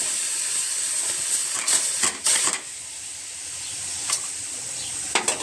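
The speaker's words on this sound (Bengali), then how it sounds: "এদিকে আমার ডাউলের সিটি উঠে গেছে প্রেসারে" A pressure cooker of dal (lentils) whistles as it cooks. A high, steady steam hiss runs throughout, with a few louder spurts and clattering knocks from the kitchen.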